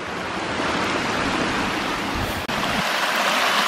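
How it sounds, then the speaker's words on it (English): A small waterfall along a mountain hiking trail in California rushes loudly and steadily nearby, a dense continuous roar of splashing water with a brief dip near the middle. "there is another small waterfall here"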